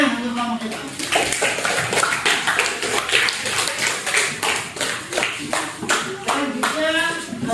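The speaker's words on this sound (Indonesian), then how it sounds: "Oke, tepuk tangan untuk kelompok 5." A classroom of students claps for a student group's presentation, a dense run of sharp hand claps going on for several seconds with voices mixed in.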